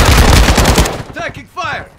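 Burst of automatic gunfire in the Warzone DMZ video game, rapid loud shots for about a second, followed by fainter game voice effects and scattered sounds.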